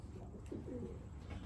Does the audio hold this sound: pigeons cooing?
yes